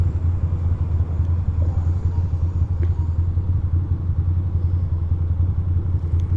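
Steady New York City street traffic, a dense, continuous low rumble of cars and engines with faint clatter, close and loud throughout, no voices.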